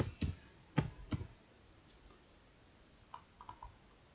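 Sparse computer keyboard keystrokes while entering an Excel transpose formula: a few isolated clicks, then a quick cluster of faint taps, close and quiet with no talk.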